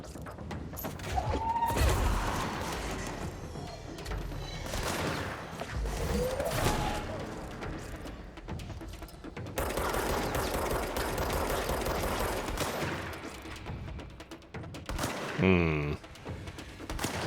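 Enemy gunfire in the action video game Control, bursts of rapid shots and heavy thuds recurring through the clip alongside ongoing game noise, loud and close.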